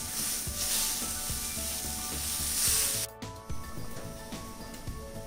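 Fish sizzling in a non-stick pan with no oil over a low flame, a steady close frying hiss that drops off abruptly partway through, leaving quieter crackles and faint clatter.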